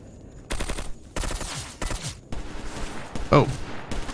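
Gunfire in the video game Stalker Anomaly: several loud bursts of automatic fire in quick succession, close and sharp, with a brief voice-like cry among them.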